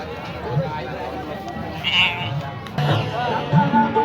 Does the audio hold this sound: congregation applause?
no